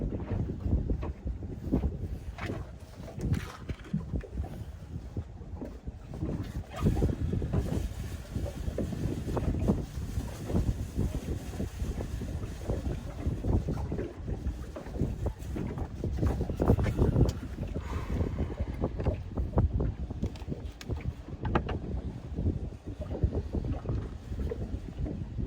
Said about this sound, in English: the wind is blowing so hard on my line